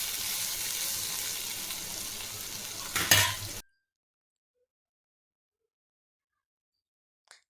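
Sliced bitter gourd (karela) frying and being stirred in a pan, giving a steady close sizzle that cuts off abruptly into silence.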